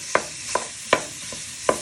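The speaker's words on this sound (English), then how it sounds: "First step to do is to fry your mince in your frying pan," Mince frying in a frying pan, a steady close sizzle broken by about five sharp scraping stirs of a wooden spoon breaking up the meat, with no voices.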